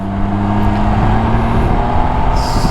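Can-Am Ryker three-wheeled motorcycle riding along a back road, a loud steady engine drone with a low hum and wind rush, close to the rider.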